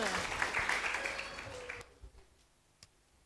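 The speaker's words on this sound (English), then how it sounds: "Please give applause." Brief seminar audience applause for the first speaker, a modest wash of clapping that cuts off abruptly after under two seconds, leaving near silence with one faint tap.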